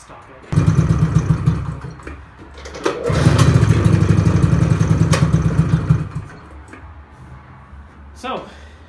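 Vintage Polaris engine cranking and firing, running roughly in two loud stretches with clattering pulses, cutting out between them, close to the microphone.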